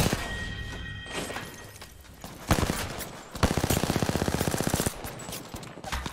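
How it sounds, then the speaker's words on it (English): Rapid automatic gunfire from the shooter video game Apex Legends, with scattered shots and then a loud, steady burst of evenly spaced rounds in the middle, close and dominant with no talk. "Oh, he's shooting me."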